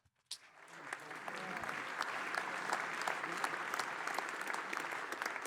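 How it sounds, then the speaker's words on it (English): Round of applause from a conference audience at a Bitcoin product launch, starting abruptly and holding as steady, moderately distant clapping from a crowd for several seconds. "I'm going to ask for a round of applause for Luke"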